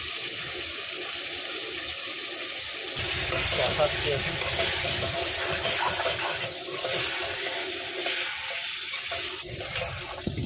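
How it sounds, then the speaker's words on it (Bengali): Mutton sizzles and hisses loudly in a hot pan, a dense steady frying noise that swells after a few seconds and holds throughout, with speech underneath. "দেখতেই পাচ্ছেন মাংসটা কষা কষা কষানো চলছে"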